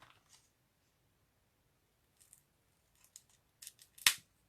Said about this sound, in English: Let's get a pair of scissors.